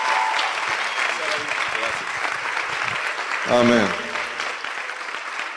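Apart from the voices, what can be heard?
congregation applauding in church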